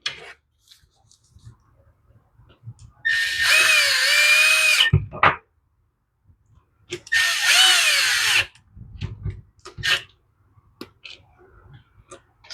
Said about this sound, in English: Snug them down, make sure we don't have any air leaks.